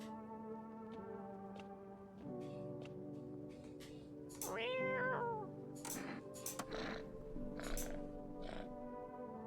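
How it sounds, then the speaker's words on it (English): A cat in the horror game No, I'm Not A Human gives a short, rising meow over a droning, tonal game soundscape with scattered soft clicks, fairly faint. "Oh, look at the kitty!"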